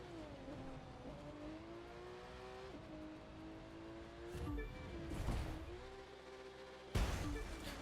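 Engine of a race car in the video game The Crew 2 revving steadily with rising and falling pitch, then bursts of louder acceleration and tire noise near the end, alone without talk.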